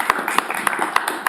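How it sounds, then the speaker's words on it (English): Applause from the audience at the close of a speaker-series talk: a short burst of rapid, scattered clapping with distinct sharp claps standing out, fairly close. "Again, let's give him another round of applause."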